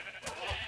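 A sheep in Minecraft gives a brief, faint bleat, one short call heard alone.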